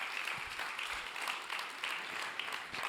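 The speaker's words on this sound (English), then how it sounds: "Another round of applause for Data Against Data." Applause from an audience at a startup founders' pitch competition, a steady dense patter of many hands clapping at moderate distance, continuous for the whole stretch with no talk.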